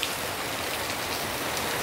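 Heavy rain pours down steadily at a Philippine resort with swimming pools, a dense, continuous hiss of drops striking surfaces all around, with no voices.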